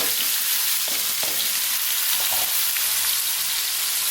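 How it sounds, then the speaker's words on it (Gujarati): Dry onion, tomato, garlic and green chili sizzling loudly in hot frying oil for chana shaak, a steady dense hiss close up with faint stirring clinks underneath. "એના અંદર આપણે નાખીશું સૂકી ડુંગળી, ટામેટાં, લસણ અને લીલા મરચાં"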